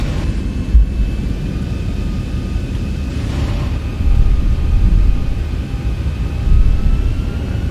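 A Boeing 737-800's engines spool up under throttle in an X-Plane 11 flight simulator, a steady broadband jet roar with low rumble that swells in waves and stays loud throughout, with no voices over it.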